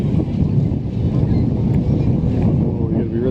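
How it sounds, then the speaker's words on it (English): Strong wind buffeting a camera microphone at the beach, a steady, loud low rumble with gusty fluctuations throughout and no clear voices. "It's super windy."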